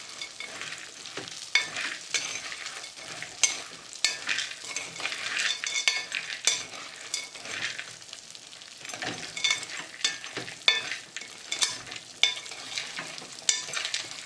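Mango seed kernels stirred and roasted in ghee over a medium flame give a steady soft sizzle, with a spoon scraping and clicking against the pan in irregular strokes.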